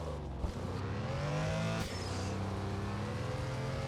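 A car drifts in the racing video game Star Drift Evolution, its engine droning and shifting pitch with rising revs and a brief tire squeal, steady and continuous.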